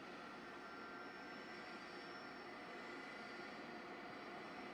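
A presidential special jet sits preparing for takeoff, its engines giving a faint, steady, broadband roar with a thin whine on top, unchanging throughout and heard from a distance.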